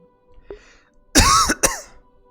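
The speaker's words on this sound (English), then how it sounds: "I'm gonna be coughing a lot this session." A streamer clears her throat with a harsh rasping burst, then follows it with one short, sharp cough. Both sounds are close and loud against a quiet room.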